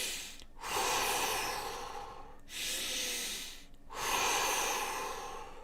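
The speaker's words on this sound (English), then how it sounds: "then we are again doing the nasal mouth breath, okay?" Three slow nasal-and-mouth cleansing breaths from a breathing exercise, each a long airy rush of air separated by short pauses, close and steady with no talking.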